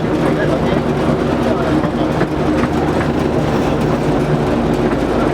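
Driving Creek Railway train climbing the upper spiral toward the top of the viaduct, a steady close rumble of wheels and carriages with faint rail clatter throughout, under a continuous mechanical drone.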